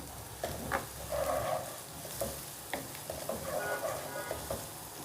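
Onions for a dhaba-style mixed vegetable curry fry in a pan with a steady close sizzle broken by bursts of stirring and scraping, and no voice.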